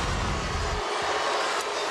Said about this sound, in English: You can hear the South Bend crowd behind us not happy with that call.